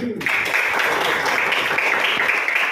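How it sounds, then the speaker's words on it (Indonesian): Students in a classroom clap their hands together in a sustained, dense burst of applause that starts abruptly and continues evenly throughout. "untuk beri semangat dan motivasi semuanya tepuk tangan"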